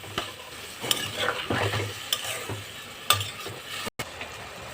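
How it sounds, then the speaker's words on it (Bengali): Spice paste and potatoes being stir-fried in oil for a bhola fish curry, with a continuous sizzle and repeated scraping strokes of a spoon against the pan; no voices. "এবার ভালো করে কষিয়ে নেব, কষিয়ে নিয়ে যাতে আলুটা সেদ্ধ হয়ে যায়।"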